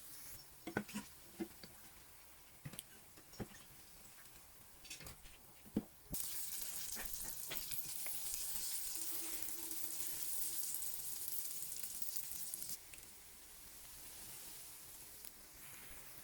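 African flour beignets, made from flour dough, frying in hot oil: a soft crackling sizzle with scattered pops, swelling into a louder, steady hiss midway before easing back down.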